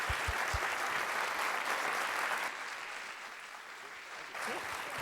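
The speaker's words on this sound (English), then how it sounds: "I think we should give him a round of applause" A conference audience applauds a speaker steadily throughout, broad and sustained clapping that fills the room, with a few louder claps near the start and a slight lift near the end.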